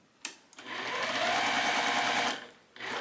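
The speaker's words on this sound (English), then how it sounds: "So you can sew them across this way or this way." A sewing machine stitches quilt block pieces for a berry block: a short start burst, then one steady, close whirring run of about two seconds, and another brief burst at the end.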